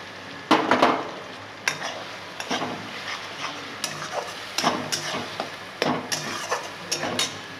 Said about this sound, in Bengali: তো পেঁয়াজটা একটু ভাজা ভাজা হয়ে গেছে, মানে কষানোটা।